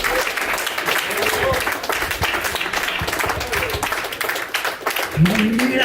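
Congregation in a church applauding together, a steady dense wash of clapping throughout, with a voice briefly rising near the end.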